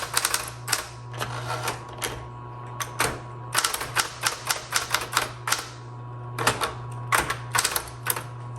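Keys of a Smith Corona Chancellor typewriter clack in quick bursts of rapid strikes separated by short pauses, close and crisp over a steady low mechanical hum, with no talking.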